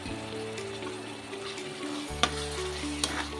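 Raw banana pieces fry in a pan with a quiet, steady sizzle, and a low hum runs underneath. A couple of soft utensil clicks stand out near the end, with no talking.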